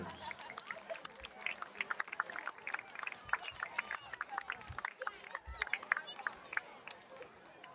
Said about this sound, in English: Another round of applause for all of our 10-letter winners.